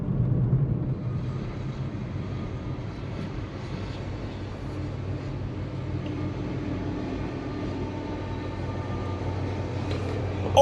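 A steady low rumble of a train rolling past a railway crossing, continuous and fairly distant, with a droning hum that holds evenly throughout.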